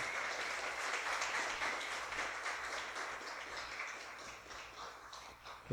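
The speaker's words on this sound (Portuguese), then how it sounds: "você pode aplaudir em agradecimento" A church congregation applauds in thanks, a steady wash of many hands clapping at moderate distance, sustained evenly with no talking over it.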